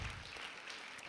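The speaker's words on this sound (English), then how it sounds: "Let's clap for Zick's." Faint audience applause at a community event, a steady, distant wash of many hands clapping for about a second.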